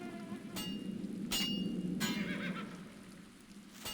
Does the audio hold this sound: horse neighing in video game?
yes